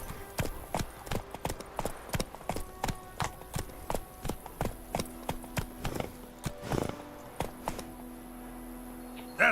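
Roach's hooves in The Witcher 3: Wild Hunt clop in an even, regular walking rhythm, crisp and fairly close, with soft game ambience and a faint tone underneath.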